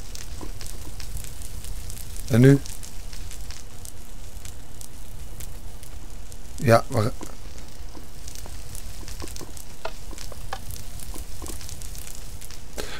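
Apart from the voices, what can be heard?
fire burning in Minecraft video game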